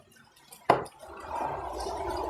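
A small water pump in an Arduino-controlled smart greenhouse switches on with a sharp click, followed by a steady, gurgling rush of flowing water that holds at moderate loudness.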